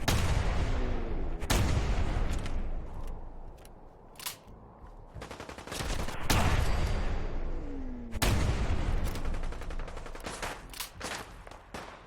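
Heavy gunshots in Fallout 4 during the Nuka World Westcliff area, a few loud booming blasts with long ringing tails over a dense, rumbling background of combat noise.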